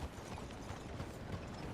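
Horse hooves clip-clopping in Red Dead Redemption 2, a steady rhythmic trot with faint mechanical rattle, quiet and even, no talk.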